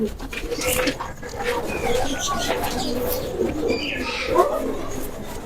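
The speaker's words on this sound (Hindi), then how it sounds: "ये ओरिजिनल फिरोजपुरी कबूतर है, चांदी आंख में, ये चांदी आंख के कबूतर हैं।" Original Ferozpuri pigeons with silver eyes coo in a loft, soft repeated low coos and occasional chirps close by, with someone talking over them throughout.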